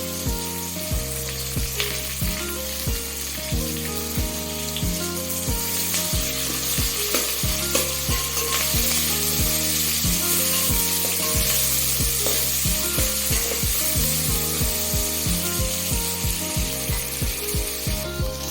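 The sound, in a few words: tomato frying in a pan for meal maker pulao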